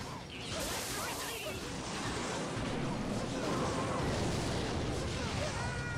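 Mortar fire strikes a tower in a mobile strategy card game, a dense, continuous rumble of explosions and crackling battle noise that holds loud and steady throughout.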